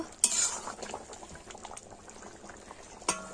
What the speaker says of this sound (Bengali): একটু ফুটিয়ে নিই।